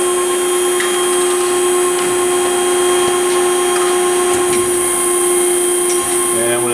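Extrude Hone Profile 200 series abrasive flow deburring machine clamping a part, a loud steady mechanical hum with high tonal whine and faint clicks throughout, continuous and close, with someone talking over it.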